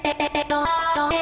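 A melodic sample pitch-shifted in Melodyne, heard as a short bright tonal phrase with choppy rhythmic notes followed by a held tone, loud and with no voices.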